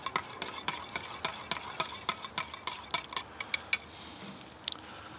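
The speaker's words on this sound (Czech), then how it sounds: "Hele, máslo skoro rozpuštěný. Ještě maličko, tak to promícháme." Melted butter stirred in a pan, a rapid series of crisp scraping and clinking strokes close by, with a soft sizzle underneath that trails off near the end.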